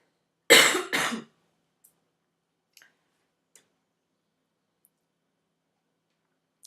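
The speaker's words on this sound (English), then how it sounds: "I'm going to have to cough." Two quick, close coughs in a row, followed by near silence with a few faint ticks.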